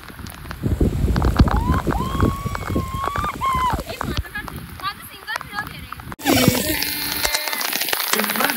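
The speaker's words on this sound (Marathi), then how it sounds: "भाई डेंजर वाला पाऊस आला" Heavy wind-driven rain pours steadily in Badlapur, with people talking and shouting over the downpour throughout.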